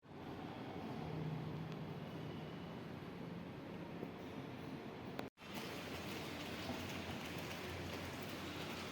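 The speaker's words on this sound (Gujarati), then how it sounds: "ફૂલ વરસાદ" Heavy rain pours down on a building in a continuous dense roar of wash and hiss. The sound cuts out for a split second partway through, then resumes just as heavily.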